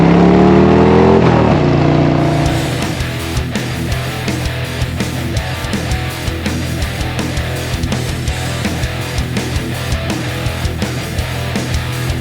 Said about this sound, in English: You're riding a Harley Davidson.